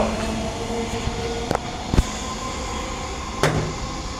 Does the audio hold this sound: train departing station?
yes